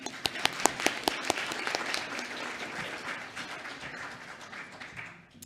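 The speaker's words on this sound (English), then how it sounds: "Applause for them." A congregation at a church livestream service applauds, sharp individual claps standing out at first, then settling into a steady, fading wash of clapping that tapers off near the end.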